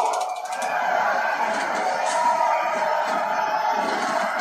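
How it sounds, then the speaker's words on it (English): A video game wrestling arena crowd in Saints Row 3, a steady dense roar of many voices in the distance, continuous for the whole stretch with no clear individual words. "Crowd is counting."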